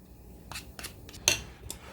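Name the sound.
spoon scraping food into a dish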